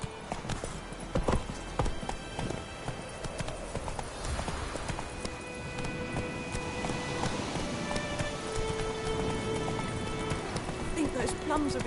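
Roach, a horse in The Witcher 3, gallops in a steady run of clip-clop hoofbeats that carry through the whole stretch, joined by busy game sound and music, with speech heard over it.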